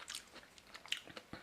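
Close, very quiet chewing of kimchi eaten with rice and meat, a few soft, moist crunches and bites over a brief moment.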